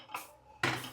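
A cake base in its tin is set down inside a preheated pressure cooker, giving two quick metallic clanks close by, the second louder, with no talk.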